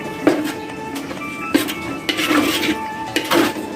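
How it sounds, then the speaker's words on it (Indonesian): A utensil stirring ground red ginger spice mix in a cooking pot, with scraping and knocking against the metal in irregular strokes, close up and without speech. "Ini menunggu sampai saya aduk sampai kering."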